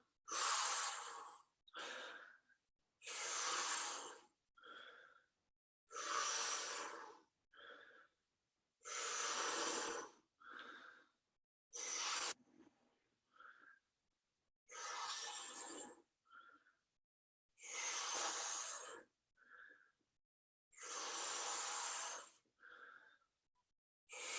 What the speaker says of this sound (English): So we'll just start with 33 breaths.